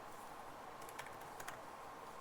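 Numbers are keyed in on a computer keyboard, a few faint, quick key clicks clustered in the middle against a quiet hum, with no talk.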